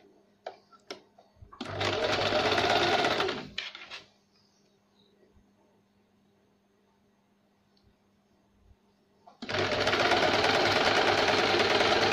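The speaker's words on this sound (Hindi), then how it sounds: "हम नीचे की ओर से इसे फोल्ड करेंगे और सिलाई लगाएंगे" A sewing machine runs in two steady bursts, stitching a folded hem on velvet fabric for a princess-cut blouse. A few faint clicks and a quiet pause separate the runs, and no one speaks.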